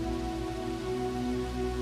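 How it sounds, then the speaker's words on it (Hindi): Rain falling steadily in the evening, a continuous dense patter that stays even and fairly loud throughout, mixed with a low sustained tonal hum. "शाम होते होते बारिश कुछ कम हुई, पर पूरी तरह बंद नहीं हुई थी।"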